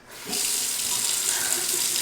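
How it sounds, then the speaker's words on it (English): Water runs steadily from a sink tap while hands are dampened during a facial cleansing routine, a constant close hiss starting after a brief moment and continuing alone. "Dampen your hands with water."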